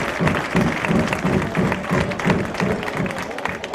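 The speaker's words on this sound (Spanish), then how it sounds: "para los que pido un fuerte aplauso." A festival audience claps loudly and steadily at a town's historical re-enactment festival proclamation in Casarabonela, a dense sustained applause with a murmur of crowd underneath and no clear speech.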